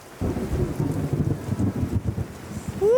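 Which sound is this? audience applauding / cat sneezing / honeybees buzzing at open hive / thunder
thunder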